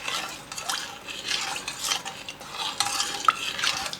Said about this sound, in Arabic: هنقلبهم